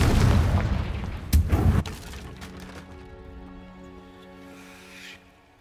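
A Confringo fire spell bursts in the Hogwarts Legacy video game with a loud booming explosion, a sharp second blast following quickly, then a long ringing, tonal decay that fades away over several seconds.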